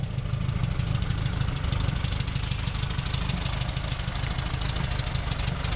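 A customized Volkswagen Beetle with gullwing doors idles steadily, a continuous low engine rumble that stays close and even throughout, with no talking.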